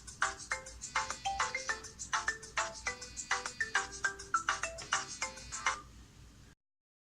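An incoming call ringtone on an Allwin smart watch fitness band, a bright repeating electronic melody of short rapid tones that plays steadily for about six seconds, then stops abruptly.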